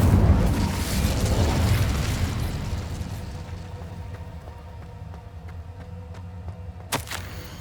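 A fiery Incendio spell blast in the game Hogwarts Legacy: a loud, rumbling burst that slowly fades into a crackling tail, with a sharp pop near the end.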